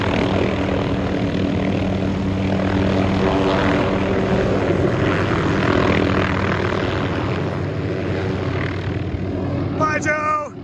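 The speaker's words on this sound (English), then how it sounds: "So that's Joe departing in the 500" An MD 500 helicopter departs from a helicopter meetup with a loud, steady engine and rotor drone that holds close throughout before easing slightly at the end, with people talking over it.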